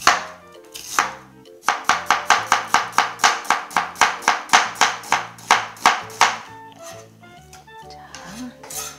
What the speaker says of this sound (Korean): 양파와 양배추 먹기 좋은 크기로 채 썰어 둘까요?